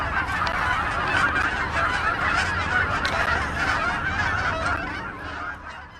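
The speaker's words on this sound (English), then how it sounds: "This is actually Canadian geese, that whole migration where it's like, oh my God, they're coming at us, they're flying at us." Canada geese honking during migration, a dense, continuous chorus of many overlapping honks and calls from a large flock, loud and steady throughout with no talking.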